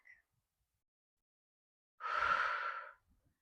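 A single long, breathy exhale during a reformer Pilates leg-strap extension, close and clear for about a second after a quiet pause, with no speech.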